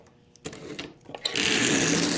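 Motor of a Marx 595 toy train locomotive with a bypassed E unit, needing lubrication, stuttering in a few short bursts before spinning up into a steady whirring buzz up close.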